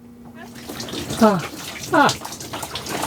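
Water runs steadily down the drain of a small van shower parked on a slope, a continuous close splashing wash with a person's voice breaking in briefly over it.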